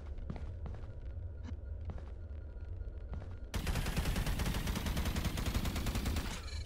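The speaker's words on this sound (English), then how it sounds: "Pulse rifle sucks, what the hell?" Rapid pulse rifle fire in the video game Lethal Company: a quieter stretch of scattered shots and steps, then from midway a loud, dense sustained burst of automatic fire.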